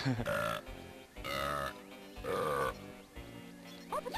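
Several long, drawn-out burps from Donkey Kong 64 gameplay, rising and falling in tonal bursts one after another, loud and close, with a bleating, grunting quality.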